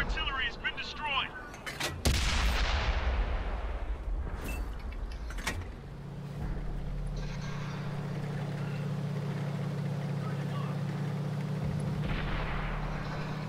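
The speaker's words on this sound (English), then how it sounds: "Artillery just fired at me." Artillery fire in the tank game World of Tanks: a heavy boom lands near the start, followed by a second sharp blast and a long rumbling engine drone, with no voices during the impacts.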